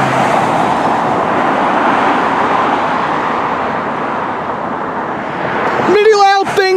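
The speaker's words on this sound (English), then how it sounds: "Oh yes, Ford L9000." A Ford L9000 truck passes on a road with a steady, loud broadband roar of engine and tires that swells slightly near the end, when a voice briefly cuts in.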